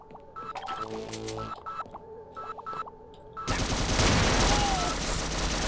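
Gunfire in the co-op shooter Sven Co-op, first short scattered shots and clanks, then a loud, sustained burst of rapid automatic fire in the second half.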